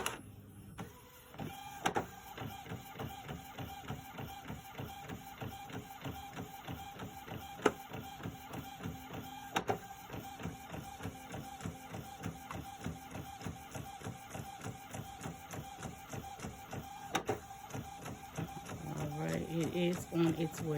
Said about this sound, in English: So now it is going to print.